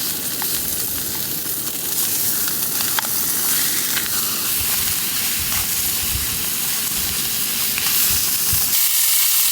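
Steaks sizzle loudly and steadily in a crowded pan at a rainy mountain campsite, with a dense continuous frying hiss and a few brief clinks and shifts as they are turned.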